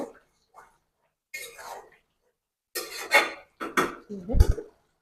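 A metal spoon scrapes and clanks against a pot while stirring homemade desi chicken curry with potatoes and red chili powder, in a few short bursts near the end, with soft murmuring and brief rustles earlier.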